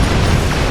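Explosions in the space combat game Star Trek Online, a dense, continuous loud roar of blasts filling the whole moment without let-up.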